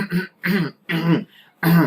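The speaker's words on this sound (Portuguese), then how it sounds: "oriente o idoso a não pigarrear. Isto irrita as pregas vocais." Someone clears their throat several times in a row, short harsh rasping bursts separated by brief pauses, close to the microphone.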